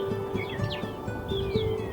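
A weaver bird gives a series of quick, thin chirps and tweets at moderate distance, repeating irregularly over a steady background hum.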